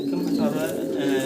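Fancy Mukhi pigeons, including a larger ice Mukhi pair, give a low continuous cooing up close while someone talks over them.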